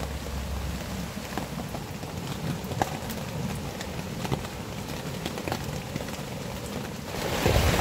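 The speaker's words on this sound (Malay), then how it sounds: "Hujan makin lebat Kemah aku bocor masuk air" Heavy rain pours on a leaking tent in wild forest during solo camping, a dense continuous patter with scattered sharper drops, growing louder at the very end.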